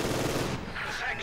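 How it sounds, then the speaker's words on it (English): An MG42 machine gun fires in a video game as one dense, rapid burst of shots, loud and continuous through the short moment. "MG42 in the house?"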